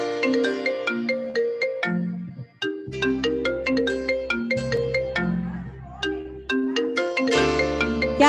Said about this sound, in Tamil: யாராவது போனை எடுக்கிறீங்களா?